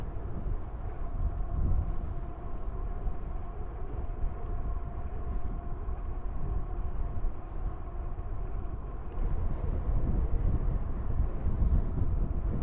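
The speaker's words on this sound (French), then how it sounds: "Ah, il y a pas mal de vent de face là quand même." Steady low rumbling headwind buffeting the microphone while riding an electric mountain bike, a constant roar with gusts swelling and easing, no voices.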